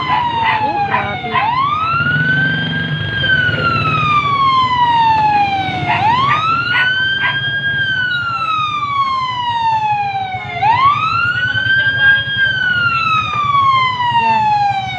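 A fire truck siren wails in repeated rising-and-falling sweeps, loud and close, with road traffic rumbling underneath near a fire in Tres; a voice speaks faintly in the background.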